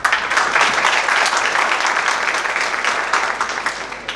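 Audience applause at a talk on digitized products and services, a dense burst of many hands clapping that swells at once and holds fairly even before thinning slightly toward the end.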